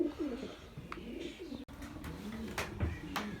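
A fantail pigeon coos softly in a low, rolling rhythm, repeating several times close by in a loft, with faint clicks and rustles around it.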